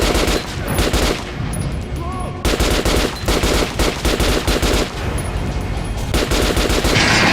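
Automatic gunfire rattles at a training dummy in Metro 2033 Redux, loud close bursts of rapid shots broken by a short pause, with a faint voice under the fire.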